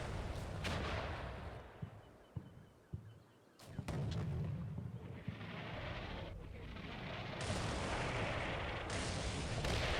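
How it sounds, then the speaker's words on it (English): Heavy booming tank cannon shots and artillery-like blasts sound at long range in the Cold War video game Combat Mission, a few sharp reports over a rumbling battlefield background. "This is some long range firing going on."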